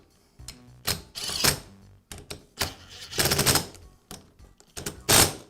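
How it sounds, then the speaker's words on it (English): Bolts being tightened on a Karcher pressure washer pump body, close ratcheting bursts in short separated runs with brief pauses between, sharp and clattery, no talking. "I'll go ahead and tighten up the first two bolts a little at a time."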